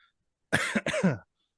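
A single harsh cough in two quick bursts, close up, with silence before and after.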